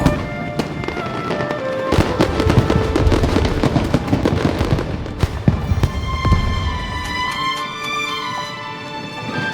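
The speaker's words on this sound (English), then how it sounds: "Fireworks show?" Fireworks burst in a Genshin Impact show as a dense run of crackling pops and bangs. Bright whistling, ringing tones join later, with no talk over them.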